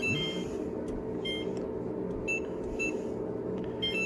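Short high electronic beeps from an oven timer sound several times at irregular intervals over a steady low hum, fairly faint and with no voices.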